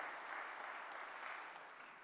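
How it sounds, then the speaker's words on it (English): Conference audience at a Gaia-X digital economy summit session on health giving a round of applause, a steady, fairly quiet wash of many hands clapping that eases off slightly toward the end. "big hand of applause"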